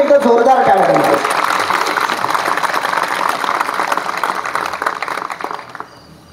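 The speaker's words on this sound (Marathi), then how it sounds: "त्या सगळ्यांसाठी एकदा जोरदार टाळ्या वाजवा" An audience at a memorial lecture claps for the organisers: a voice briefly at the start, then a sustained, dense patter of applause that fades out near the end.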